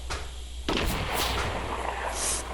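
A sniper shot rings out in the Fortnite video game, one sharp loud crack followed by a sustained rumbling echo.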